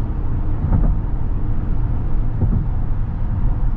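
A 2024 Jeep Grand Wagoneer Obsidian cruises on the highway in aero mode, giving a steady, loud low rumble of road and engine noise heard from inside the cabin, with no voices.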